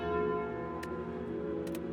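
The Calling Bell relic rings in Slay the Spire with a sustained, resonant bell tone holding steady, with a couple of brief clicks on top.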